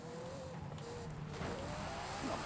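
A high-revving race car engine in Forza Horizon 5, revving to 9,500 RPM, drones and climbs in pitch, a loud, steady roar with faint tire noise underneath.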